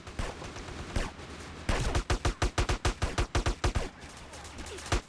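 Video game gunfire rings out as a rapid burst of about a dozen loud, evenly spaced shots, with scattered quieter shots before and after the burst.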